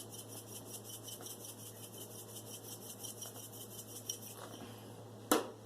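A utensil stirs undrained canned tomatoes with their juice into a mac and cheese casserole, faint wet scraping and soft clinks against the dish, ending in one sharper knock, close and quiet over a steady background hum.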